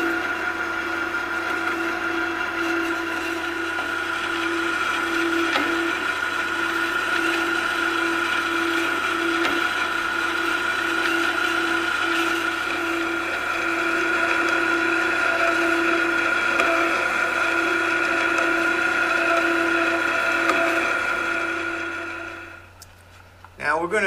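A power saw cuts a brass clock plate in a steady, unbroken whine that holds for about twenty seconds and then stops with a brief clatter.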